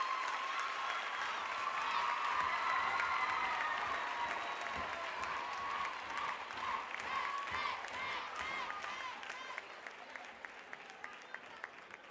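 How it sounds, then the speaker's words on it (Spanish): Crowd applause at a Carnival troupe presentation in Errenteria, sustained dense clapping and cheering that holds steady then gradually thins toward the end. "Aplauso fuerte, fuerte, fuerte para Coco Dance"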